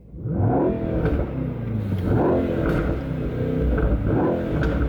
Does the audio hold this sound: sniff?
no